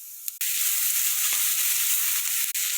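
Chopped spinach sautéing in a pan with onions, chillies and curry leaves gives a steady, close hissing sizzle that runs throughout, broken by a couple of brief dips and soft stirring scrapes.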